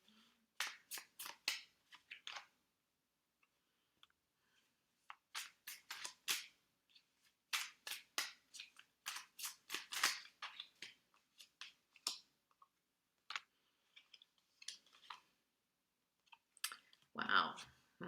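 Tarot cards shuffled in the hands, sharp papery clicks and flicks coming in quick bursts with short pauses, close and fairly quiet, with a brief louder rustle near the end.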